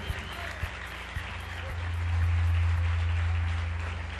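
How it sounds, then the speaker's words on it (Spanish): Applause swells from a crowd at a Christian worship concert, rising to a full, sustained clatter of clapping over a low musical hum, with a few isolated thumps before it builds. "dale un fuerte aplauso al Señor"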